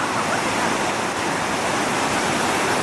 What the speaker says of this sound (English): Well, this is the Lackala Falls